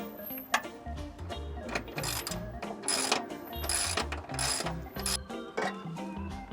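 A ratcheting driver backs a self-tapping screw out of a heater pump bracket on a Winnebago Revel, a steady run of close, rapid mechanical clicks over a low motor-like hum.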